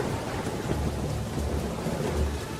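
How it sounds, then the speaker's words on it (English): Heavy rain pours with deep rolling thunder in a dramatized reading of the flood, a dense continuous roar of downpour and low rumbles with no voices. "the rain was on the earth 40 days and 40 nights"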